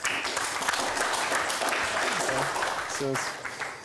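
Studio audience applauds through nearly four seconds of steady clapping while a voice speaks over it near the end.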